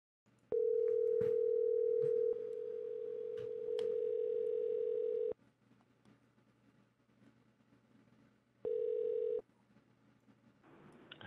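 A telephone dial tone sounds while a call is placed back, a steady, loud electronic hum lasting several seconds before cutting off, followed by a brief second burst of tone, with quiet line noise between.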